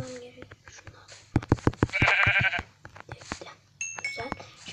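Sheep bleating in the Minecraft video game, a short wavering bleat heard mid-clip among game clicks and footsteps, with a person talking throughout.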